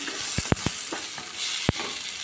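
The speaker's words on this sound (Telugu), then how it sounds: "ఆవాలు జీలకర్ర అనమాట తర్వాత ఒక రెబ్బ కరివేపాకు వీటిని కూడా వేయించుకున్నాం" Mustard seeds, cumin and curry leaves frying in hot oil for a tamarind pickle tempering, a soft steady sizzle broken by a few sharp pops and spatters, close and fairly quiet.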